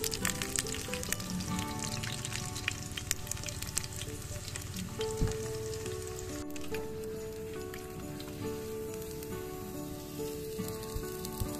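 Katsu sizzles and crackles in hot oil for katsu donburi, cooked outdoors at a family campsite, a steady close frying hiss with scattered pops throughout.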